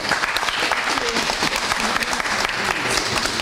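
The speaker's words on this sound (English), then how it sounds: "applaudir à nouveau Hilary," Audience applause for Hilary Jones at a museum presentation, dense and steady throughout at full strength, with faint voices mixed into the clapping.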